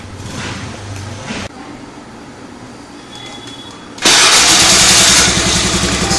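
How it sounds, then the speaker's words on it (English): A scooter engine, just refitted with its spark plug, sits quiet for a few seconds, then catches and bursts into a loud, steady running roar up close. "Start your engine."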